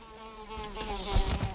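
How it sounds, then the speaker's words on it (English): A mosquito in the Valheim video game, Mistlands area, drones with a steady, loud insect buzz that swells as it approaches, joined near the end by a few low thumps. "But the mosquito is coming."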